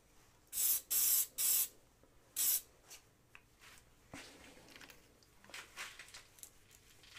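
A spray can of glue fires four short, loud hissing bursts in quick succession, followed by quieter rubbing and handling noises.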